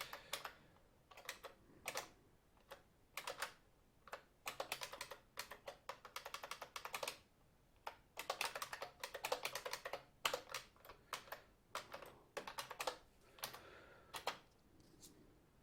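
Rapid clattering keystrokes on an older PS2 computer keyboard, typed in quick bursts with short pauses between runs, close and fairly quiet with no talking.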